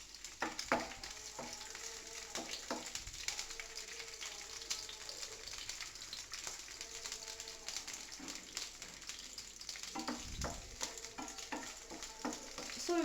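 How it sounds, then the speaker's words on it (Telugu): Cumin, dried red chillies and garlic fry in a pan for beetroot chutney, giving a soft, steady sizzle with occasional stirring scrapes, fairly quiet and close, with brief faint speech. "సో ఇవి వేగుతూ ఉంటాయి."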